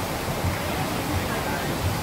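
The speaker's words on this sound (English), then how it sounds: "A lot of water in that fountain. A lot of energy." Water rushing in a large fountain in France, a steady broadband roar of falling water, even and fairly close, with no clear voices over it.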